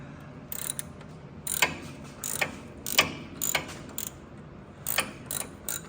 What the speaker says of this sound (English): taking the nut out of the retainer clip that holds the hose on from down here